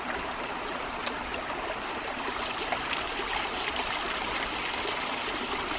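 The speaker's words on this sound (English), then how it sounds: "we're going to see if air will gurgle out of here" Water and air gurgle and trickle steadily out of a valve on a 3/4-inch hydraulic ram pump installed on a farm, a continuous close rushing, bubbling wash with no speech.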